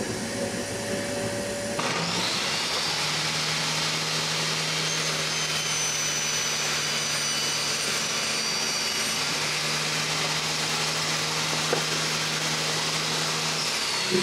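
Power saw making a rip cut along the grain of a mahogany board: a loud, steady whining roar that kicks in after a short lead-in and holds continuously, with no voices.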